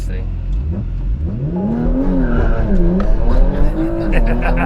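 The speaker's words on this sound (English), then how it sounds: "That launches way harder." A Porsche Macan tuned with an added 100 horsepower launches hard. Its engine rises loud and close as the tires squeal, and people talk over the noise.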